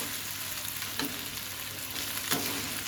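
Food sizzles and crackles steadily in a hot pan, with a couple of brief stirring scrapes.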